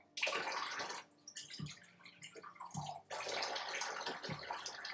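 About 90 ml of cold water poured into a bowl for apple cake batter, splashing in two long bursts separated by a quieter pause with drips, close and clear, with no speech.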